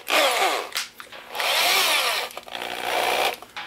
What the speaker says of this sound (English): If I can get the drill bit in.